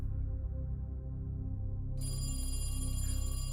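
A telephone rings in a suburban kitchen, a steady electronic ringtone that repeats continuously and loud throughout, with a brighter, sharper tone joining partway through and no talking.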